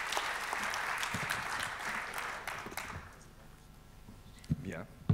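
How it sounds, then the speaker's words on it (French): Audience applause at the opening of a national conference, a full round of clapping for about three seconds that fades out, followed by quieter room noise and a few scattered sounds. "je vous demande d'applaudir"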